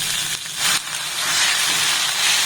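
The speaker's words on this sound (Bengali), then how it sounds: "পোস্ত দিয়ে আবার এটাকে একটু নাড়াচাড়া করে ভেজে নেব" Poppy seeds and leafy greens with potato fry in a hot pan, giving a loud, continuous hiss and sizzle that swells briefly as they are stirred.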